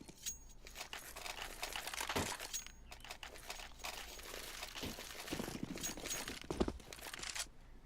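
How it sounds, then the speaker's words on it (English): Glass windows break during a Counter-Strike round on de_inferno, faint crackling shatters with several sharper pops scattered over a quiet in-game background. "every time you hear that glass pop in the beginning of the round"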